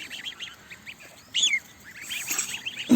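Small goose goslings peep in a series of short, thin high-pitched calls, one louder burst midway, with no one talking.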